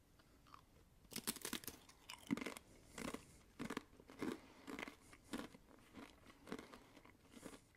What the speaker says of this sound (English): This is much more crunchier than the regular ones, and you can definitely taste the spicy potato.